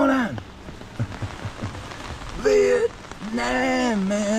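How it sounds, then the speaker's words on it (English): Steady rain falls in Vietnam, a dense, continuous patter throughout while voices speak over it. "Day 3 with nothing but rain, and it's picked up a little bit."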